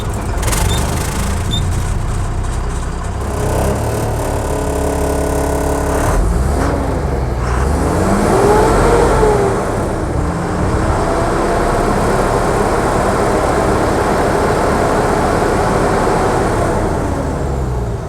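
A car engine cranks and catches after being shifted into neutral, then settles into a steady running rumble that carries on close by for a long stretch without talking.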